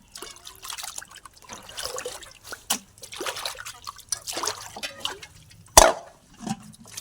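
Clean water trickles and splashes in uneven spurts as raw chicken meat is rinsed in a bowl, with one sharp clink near the end.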